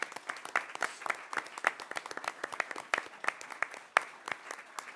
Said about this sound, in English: One more hand of applause for the chief